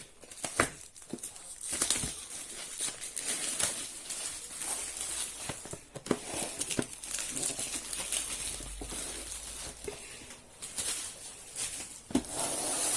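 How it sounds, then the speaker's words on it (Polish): Plastic foil wrap being torn and peeled off a boxed set of Harry Potter books, with close, faint crinkling and rustling broken by sharp crackles and handling noises. "Teraz jeszcze otworzymy z folii."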